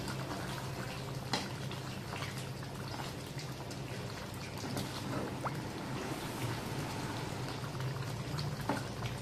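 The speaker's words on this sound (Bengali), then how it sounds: "মাংসটা সুন্দর ফুটে উঠেছে।" A pot of beef curry cooked with ground spice paste bubbles steadily, with a soft, continuous boiling hiss broken by scattered pops and small clinks, and no one speaking.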